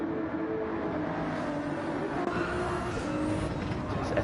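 GT2 and GT3 race cars roar steadily through sweeping corners at Lago Maggiore in a racing game, engines droning with a faint tyre squeal from worn tyres beneath.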